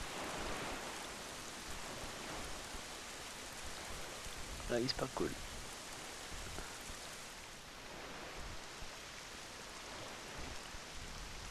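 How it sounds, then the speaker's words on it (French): Steady rain falls in The Legend of Zelda: The Wind Waker HD, a soft continuous hiss that persists throughout at low level, with someone speaking briefly over it midway. "il pleut."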